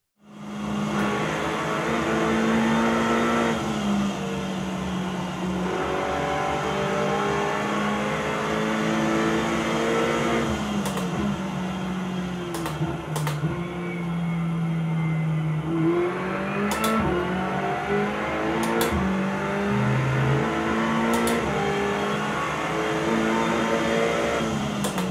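A race car engine in a sim racing game revs steadily through a lap, its loud pitch rising and falling with shifts and short gear changes, continuous and close without speech.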